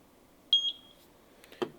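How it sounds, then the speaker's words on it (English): A Eufy S220 Solo Cam solar-powered security camera gives a short, clear electronic beep after its sync button is pressed, followed by a faint click in a quiet room. "You hear the beep."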